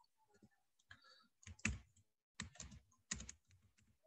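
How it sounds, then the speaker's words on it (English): Typing on a computer keyboard while entering text into a form, heard as bursts of quick clicking keystrokes in several clusters, fairly close and quiet, with no talking. "So I'm going to type in Douglas."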